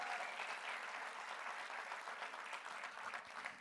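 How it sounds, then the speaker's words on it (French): Steady, dense applause from a live comedy show audience filling the whole moment, an even roar of clapping at moderate loudness with no pause. "On applaudit Guillaume"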